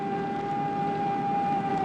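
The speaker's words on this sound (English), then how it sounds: "There is in Honolulu one person whom the sound of the siren" A civil defense siren sounds over Honolulu, a steady sustained wail holding one pitch throughout, moderately loud and unbroken, with no voices over it.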